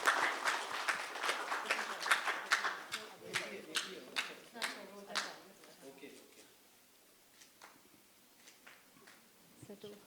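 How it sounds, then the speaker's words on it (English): Audience applause for the authors at a book launch in Dehradun, a burst of many hands clapping that is loud at first, then thins to scattered claps and fades away near the end. "Can I get a little round of applause for the authors?"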